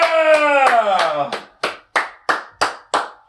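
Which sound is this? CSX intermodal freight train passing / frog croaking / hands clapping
hands clapping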